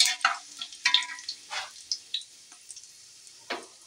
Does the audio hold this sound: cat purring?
no